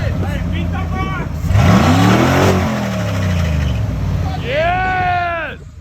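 Ford Bronco engine with a chopped exhaust revving hard, rising and falling throaty roars up close with a steady rumbling idle between pulls and voices talking over it.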